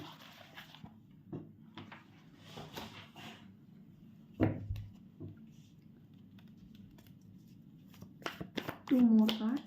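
Tarot cards are shuffled and handled in a quiet room, with intermittent soft riffles, taps and slaps spread across the span, plus a louder thump midway and a voice speaking near the end.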